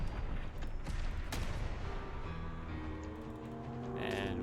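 A .410 lever-action shotgun fires in the video game Fallout 4: three sharp, booming shots in quick succession, then fading rumble and a few metallic mechanical clicks.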